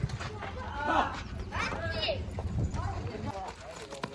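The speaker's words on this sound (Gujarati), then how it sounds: "ઘોડો આવી ગયો બાજુ" A Kathiyawadi horse clip-clops alongside with quick, close hoofbeats, heard under loud talking voices.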